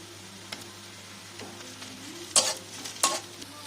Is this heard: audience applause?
no